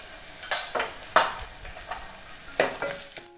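Spices sizzle steadily in hot oil for tempering, with a few sharp clattering bursts from stirring, close by, with no voices.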